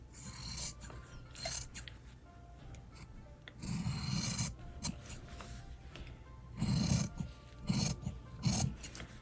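Scissors trimming fabric for a crossbody bag, heard as several separate bursts of rasping, rubbing cuts, some close and loud and others softer, with short pauses between them and no talking.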